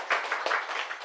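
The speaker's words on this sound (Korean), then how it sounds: "박수 한번 부탁드릴게요" Studio audience clapping after a host asks for a round of applause at a Korean Christian talk show about marriage, a short burst of scattered hand claps, moderately loud, with no talking over it.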